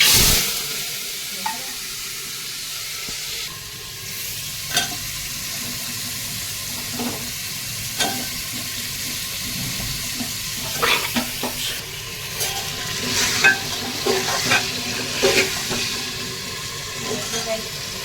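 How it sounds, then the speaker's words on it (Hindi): Oil sizzles and crackles steadily as spices and fenugreek seeds fry, with occasional stirring clicks and scrapes, close and fairly quiet throughout. "मेथी का तड़का लगेगा, मेथी दाने का"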